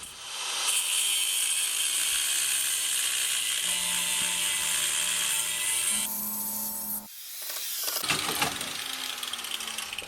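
A winch clamped onto a bandsaw mill gives a long run of steady ratcheting, whirring mechanical noise with a shift in pitch midway, a brief drop, then louder clanking and scraping.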